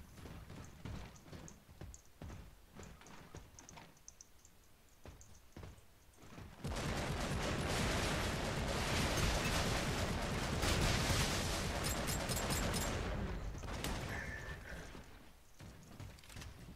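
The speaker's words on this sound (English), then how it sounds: "Why do you hip fire at that range?" Rapid bursts of hip-fired gunfire in the video game Eternal Crusade chatter in short clusters, then swell into a long, dense stretch of continuous shooting and blasts.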